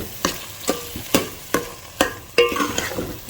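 Garam masala being stirred into a turnip and meat curry (shaljam gosht) in a pan, with a spoon scraping in about seven regular strokes over a soft sizzle, close and fairly loud, no talking.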